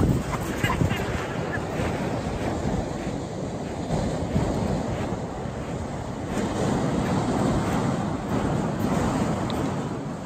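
Surf and gusting wind on the beach at Westerland on Sylt in winter, a steady loud roar of breaking waves with wind buffeting the microphone throughout, with no clear talk over it.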